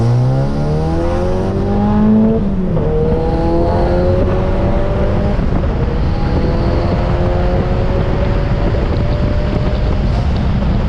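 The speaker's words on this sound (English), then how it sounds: "time to test out how much wheel hop there is." A 2017 Ford Focus RS launches hard to test for wheel hop, its engine roaring loud and steady with rising, shifting tones over heavy wind noise.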